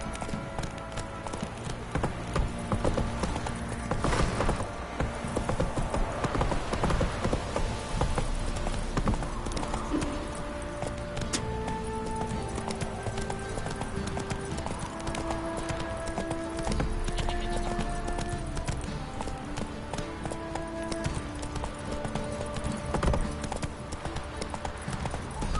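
Roach, Geralt's horse in The Witcher 3, gallops in a rapid, steady clip-clop of hooves that runs throughout, layered with game music and ambience, and a voice briefly speaks.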